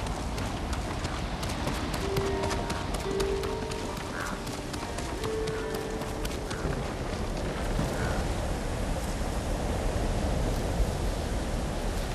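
Horse hooves gallop in a steady, rapid rhythm through the video game Ghost of Tsushima, a continuous mid-level clatter over a bed of ambient wind-like game noise, with no voices.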